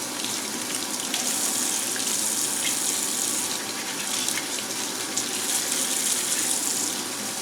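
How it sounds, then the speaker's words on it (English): Water runs steadily from a tap while a black powder Pietta Colt 1851 Navy .44 revolver cylinder is rinsed, a continuous close hissing splash with slight fluctuations and no talking. "you want to run water down both sides"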